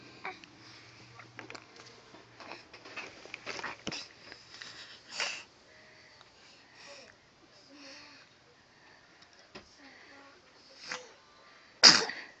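A sharp, loud sneeze bursts out near the end after quiet sniffles and soft murmuring from a small child close by.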